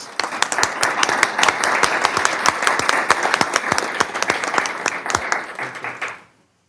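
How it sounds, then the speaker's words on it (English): Sustained applause from an audience at a public college district board meeting, dense steady clapping for about six seconds before stopping abruptly. "Let's give them all a round of applause, please."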